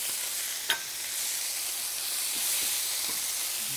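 Meat sizzling in butter in a hot pan, a steady bright hiss throughout with a single short clink of a utensil early on, close and alone.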